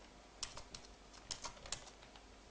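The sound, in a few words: typing commands on a computer keyboard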